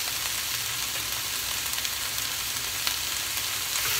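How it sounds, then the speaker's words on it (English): Ground meat browning in a pan for a slow cooker spaghetti sauce gives a close, steady frying sizzle with a few faint stirring clicks and no voices. "And then you just want to brown your meat"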